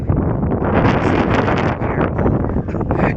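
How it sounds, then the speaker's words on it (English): Loud, steady gusts buffet a phone microphone outdoors at an off-grid Arizona homestead chicken coop, the rumbling wind noise filling the whole stretch with no talk. "Sorry if it's too windy."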